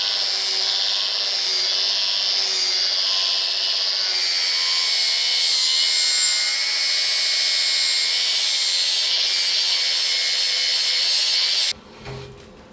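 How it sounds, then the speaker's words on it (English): An angle grinder fitted with an aggressive flap disc grinds a heavy-duty blade, giving a loud, steady, high-pitched whine for nearly twelve seconds before it cuts off abruptly. "hard to beat a good angle grinder with a very aggressive flap disc"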